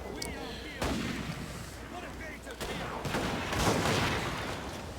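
A Warhammer video game battle where infantry units fire volleys: layered, rumbling gunfire and cannon-like booms roll continuously, dense and loud, with a heavier surge of volleys partway through.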